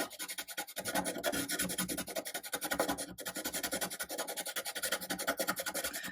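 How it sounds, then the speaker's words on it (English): A white pastel pencil is sharpened, a close, fast rhythmic rasping and scraping of repeated strokes that continues evenly for several seconds, quiet overall and without any talking. "My white got dulled down, so I'm going to sharpen that again."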